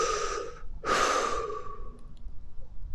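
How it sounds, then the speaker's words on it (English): Two deep human breaths, a long exhale followed by a strong inhale that tapers off, close and fairly loud with no talking, during a campfire storytelling session. "Can you breathe deeply again?"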